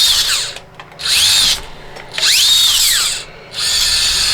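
A tiny Furitek MicroPython RC crawler creeps slowly along, its small motor whining in short bursts with pitch sweeping up and down between brief pauses, close and loud.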